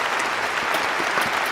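Applause sound effect: a dense, steady wash of clapping from a crowd, continuous and fairly loud with no talk over it.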